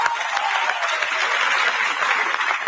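A youth summit audience on human fraternity and compassion breaks into a big round of applause, a loud, dense wash of clapping that holds steady and close throughout.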